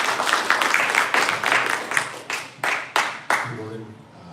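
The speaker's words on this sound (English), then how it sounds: "Everybody give him a round of applause." A crowd claps briefly, dense applause that thins into a few scattered, separate claps before fading out.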